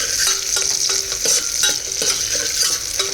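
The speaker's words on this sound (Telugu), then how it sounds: "సో ఇలాగ ఫ్రై అవ్వాలండి." Mixed vegetables frying for a dhaba-style curry, a steady bright sizzle broken by repeated stirring scrapes roughly every half second, close and loud with no voices.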